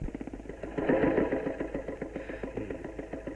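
A motorbike engine idles nearby with a steady, rapid putter, swelling briefly louder near the start before settling back to an even chug.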